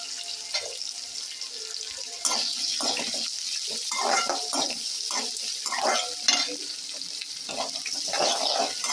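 Cabbage and green chillies sautéing in a pan for a Tamil-style cabbage fry, heard as intermittent bursts of sizzle and stirring scrapes, some louder than others, with no talk.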